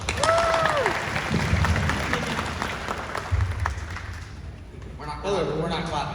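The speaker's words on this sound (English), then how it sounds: "Let's give a round of applause." Audience clapping at an anime convention panel for the English cast of Kaiju No. 8 at Anime Pasadena 2024, a sustained crowd applause with voices talking over it and a brief hoot near the start.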